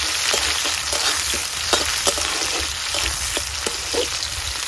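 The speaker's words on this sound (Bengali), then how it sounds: "তেলটা আমার গরম হয়ে গেছে, এবার টমেটো কুচি পেঁয়াজ কুচি দিয়ে দেবো।" Chopped tomato and onion frying in hot oil in a kadai, a loud continuous sizzle with scattered crackles and pops, close up and alone without voices.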